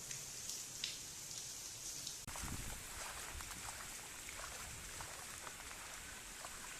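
Steady rain pours down, hissing continuously with a dense patter of drops on surfaces nearby, no voices heard.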